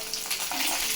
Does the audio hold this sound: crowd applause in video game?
no